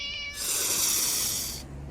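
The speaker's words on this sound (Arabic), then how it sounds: "يا قطة" A cat gives a single drawn-out, bright meow lasting over a second, loud and close.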